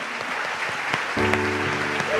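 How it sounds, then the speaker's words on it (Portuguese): A church congregation claps steadily during a service, the applause thickening partway through while a sustained tone, likely music, rises beneath it. "A gente só vai parar de aplaudir quando o último passar pela porta"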